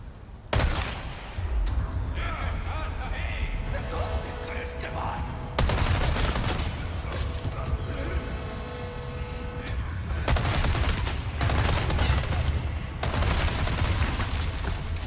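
Gunfire in Resident Evil 4 Remake: loud, dense bursts of shots and booming blasts in game combat, with music and effects in the background and little talk.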